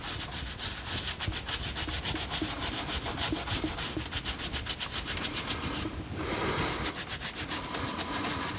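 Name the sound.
scrubbing moss off a bonsai tree trunk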